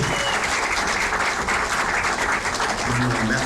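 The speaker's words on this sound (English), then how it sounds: "Let's give another round of applause." An audience at a film festival Q&A in Burbank applauds after a screening: a dense, even wash of many hands clapping that stays loud and steady throughout, with a faint voice near the end.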